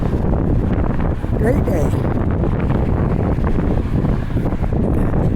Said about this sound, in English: every time you get in the wind you hear a awful noise